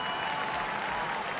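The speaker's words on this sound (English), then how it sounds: "The clapping, bro." Steady, dense applause from a large wrestling crowd in the video game WWE 2K24, loud and continuous throughout with no pauses.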